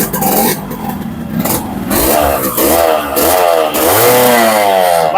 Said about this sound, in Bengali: তো একবার সুপার ফ্রেশ গাড়িটা তো স্টার্ট করে দেন তো ভাই, স্টার্ট করেন তো গাড়ি।